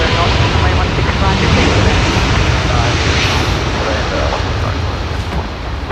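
A heavy Qantas jet departs Sydney Airport for Los Angeles, a loud, sustained broadband engine roar that holds steady for several seconds and eases slightly at the end, with faint voices talking beneath it.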